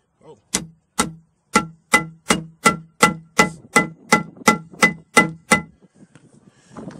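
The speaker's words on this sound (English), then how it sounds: "Give it a couple whacks." A dozen sharp, evenly spaced hammer whacks ring out as a U-joint cap is driven into its seat on a Cummins, each strike loud and metallic with a brief decay, then the hits stop.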